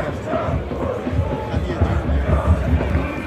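Away supporters of Young Boys at a FC Zürich football match, a loud, continuous stadium crowd roar with chanting swells, heard under a commentator's voice.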